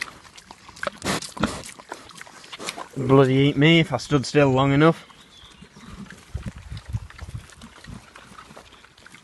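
Pigs squabble over mouldy courgettes, letting out a loud burst of squeals and grunts in the middle while someone talks nearby before and after.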